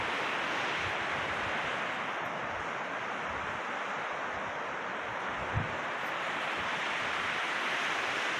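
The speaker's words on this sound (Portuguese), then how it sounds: "A maré tá um pouco agitada, pessoal." Choppy sea waves wash steadily at the shore where people are fishing on an ebbing, agitated tide, a continuous broad roar with wind buffeting the microphone and no talk.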